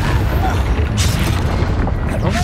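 Confringo blasting spell going off in Hogwarts Legacy, a loud booming explosion with a sharp crack about a second in, over continuous rumbling game noise.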